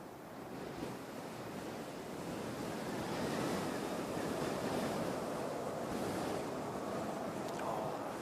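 Strong wind roars steadily across an open microphone at Christchurch Airport, a continuous broadband rush that swells slightly midway and holds loud throughout, with no voices.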